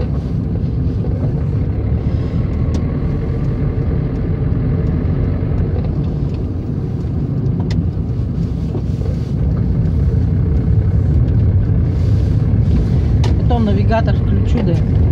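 A car drives through a newly built residential district of Yekaterinburg, its engine and road rumble a steady, loud drone throughout with wind buffeting the microphone.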